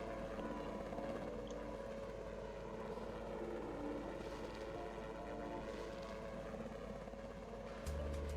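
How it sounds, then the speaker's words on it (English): Helicopter in the city-building game SimCity 4, a steady low rotor drone running continuously at moderate level with faint ambient background. "The helicopter's a bit irritating."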